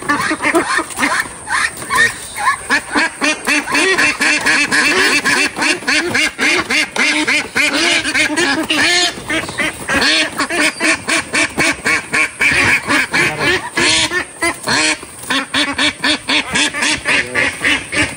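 Flock of around twenty newly bought domestic ducks quacking together, dense overlapping quacks in rapid, irregular bursts, loud and close, continuing without pause.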